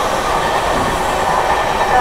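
Amrit Bharat special train roaring through Shikohabad railway station at full speed, around 110, on the main line, heard as a loud, continuous rush of wheels and wind.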